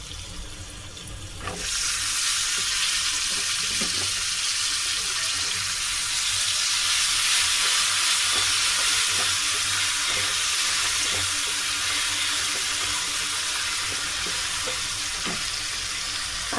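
Tomatoes dropped into a hot pan of oil with turmeric sizzle and fry loudly, a steady broadband hiss starting after a short quieter moment and holding throughout, with occasional faint stirring clicks.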